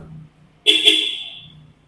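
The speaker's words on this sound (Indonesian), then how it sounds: "ketika kita hidupin mobil, kita kuncinya bawa keluar, dia akan suara klakson" A Ford Ranger's horn blares once, loud and close, when its key is carried away from the running truck, holding for about a second before fading out over a low idle hum.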